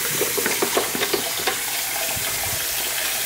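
Water runs steadily from an American Standard sink faucet in a children's aquarium in Dallas, a close splashing stream with a few louder spatters early on.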